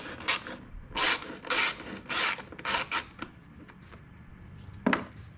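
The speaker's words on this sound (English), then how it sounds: "So you undo that bolt right here." Socket wrench working a bolt on the rear fender of a KTM 250 EXC dirt bike, giving repeated ratcheting, rasping bursts in uneven clusters, close and loud, with a single sharp knock near the end.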